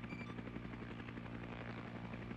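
A transport helicopter sits spun up on a runway in a video game, its rotor thudding in a steady rhythmic drone with a low engine hum, moderately loud and continuous with no voices.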